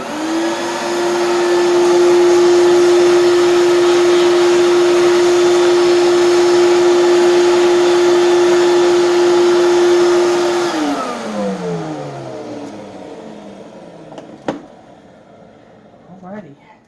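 Hoover TurboPower 5K and Spirit canister vacuum cleaners sharing power roar loudly with a steady high motor whine, then wind down in a falling pitch as they switch off, leaving faint clicks and handling noise.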